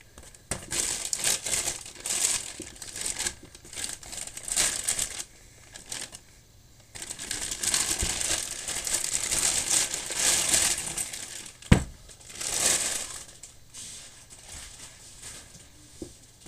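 A black plastic bag holding etchant is handled and crinkled in bursts of rustling, loud and close, with quieter pauses and one sharp knock partway through.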